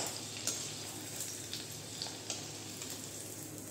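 Onion rings for crispy onion pakora fry in hot oil on lowered heat, a steady close sizzle with a few small pops and light stirring clicks.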